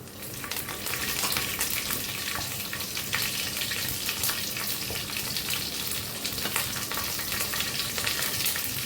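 Katla fish pieces seasoned with salt and turmeric fry in hot oil, giving a steady, dense sizzle with crackling pops that holds at an even level for the full stretch, close by and with no voices.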